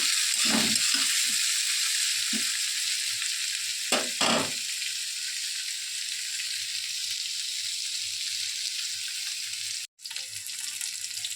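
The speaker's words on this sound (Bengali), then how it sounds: "তো সবজিগুলোকে এখন ভেজে নিচ্ছি, তারপরে মশলাটাকে দিয়ে কষিয়ে নেব।" Vegetables fry in a pan for khichuri. The oil sizzles steadily and loudly throughout, with a few soft scrapes and knocks from stirring near the start and midway.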